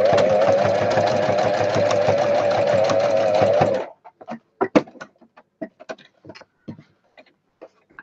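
Sewing machine stitching dotted lines into pink felt, a loud continuous whirring run for about four seconds, then stopping into scattered soft clicks and handling noises.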